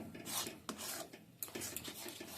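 Flattened rice (chira) with peas is stirred and fried in a pan, giving soft, faint scraping and rasping strokes of a spatula against the pan, repeated irregularly.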